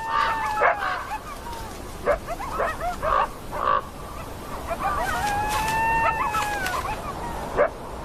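Several coyotes yip and howl in a wild scene, rising and falling high-pitched calls and short sharp barks overlapping at moderate distance, in bursts with brief pauses.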